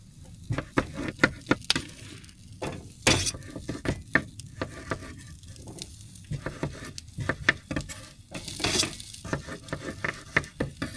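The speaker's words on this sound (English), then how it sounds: "get the potatoes and onions sauteing because I think they'll take the longest" Potatoes and onions cook in olive oil in a pan at a snowy winter campsite, a quiet sizzle broken by frequent clicks and scrapes of a utensil, close and irregular.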